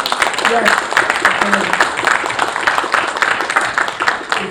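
An audience at an academic conference applauds steadily in honour of a colleague, a dense continuous wash of clapping with a voice speaking briefly over it.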